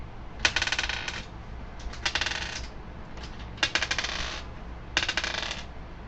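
Dice rolled for a tabletop role-playing game clatter across a hard surface in four separate bursts of rapid rattling clicks, close and fairly crisp against a low background hum.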